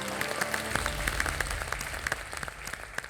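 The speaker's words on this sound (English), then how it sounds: "Let's give her a big round of applause" Studio audience applause on a televised cooking competition set, a dense steady wash of many hands clapping close by, continuous and lively for a few seconds with scattered louder claps and a faint voice beneath.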